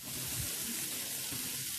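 Spiced pomfret fish frying in a pan, a short close steady hiss of sizzling oil with no talking.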